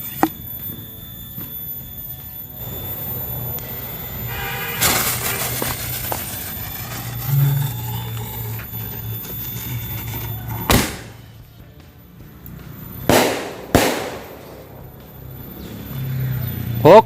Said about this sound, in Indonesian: Yang pertama, kita nyalakan mercon bola launcher.